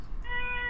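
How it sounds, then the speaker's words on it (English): A single short house-cat meow, close and clear, rising into a tonal cry after a faint lead-in. "Do you hear my cat?"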